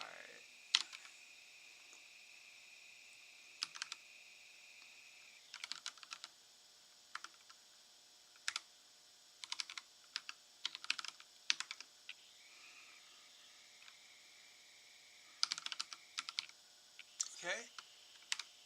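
Typing on a computer keyboard during coding in R: quiet, close key clicks in short irregular bursts separated by pauses, with a faint steady background hum.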